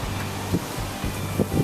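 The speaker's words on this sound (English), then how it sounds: "whew, that's windy." Strong outdoor wind buffets the microphone near a tractor and sweeper. There are loud, uneven gusts with low rumbling thumps and rustling, and no voices.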